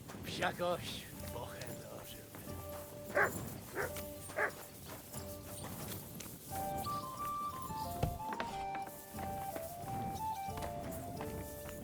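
A dog in Kingdom Come Deliverance 2 lets out several separate barks in the first few seconds, followed by a tonal musical passage, with faint voice-like sounds in the mix.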